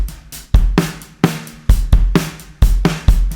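A drum kit beats out a steady pattern in a polished, well-balanced mix, with punchy kick and crisp snare hits and bright cymbal wash, loud and close, regular strikes throughout.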